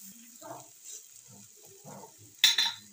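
Peanuts and cashews frying in a pan for khichuri, stirred with sparse soft scrapes and faint crackles, then a sharp metallic clatter near the end.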